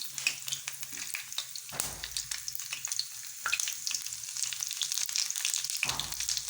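Cumin seeds sizzle and crackle in hot oil in a pan for spicy potato cooking, a dense continuous frying hiss with scattered sharp pops, fairly loud and alone.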